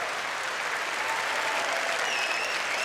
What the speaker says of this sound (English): Oh, wow, listen to that crowd, man.